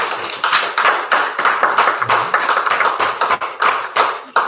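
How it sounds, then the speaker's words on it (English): Audience clapping by hand at a memorial gathering, a loose, irregular stream of claps and taps, fairly close and moderately loud, with no talk over it. "Now give her a hand clap."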